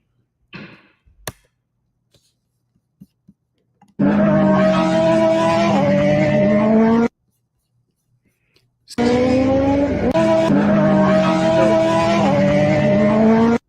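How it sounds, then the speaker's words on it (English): Cars speed past a motorcycle on a road: two loud, sustained roars of passing engines with tire noise, each lasting a few seconds and separated by near silence, with faint clicks before. "He's on a motorcycle and he's got cars passing him."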